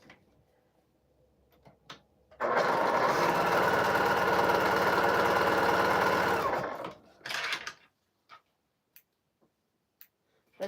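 A sewing machine stitches a seam on a quilt panel in one continuous, rapid run of about four and a half seconds, loud and close, with quiet handling clicks before and after.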